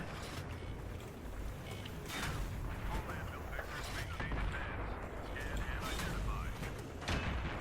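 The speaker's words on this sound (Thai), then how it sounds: "มันยิงมันยิงต้องหลบก่อน" Enemy gunfire in the war game Battlefield 3, heard as repeated loud bursts of shots over a dense, constant mechanical vehicle rumble, with a voice talking throughout.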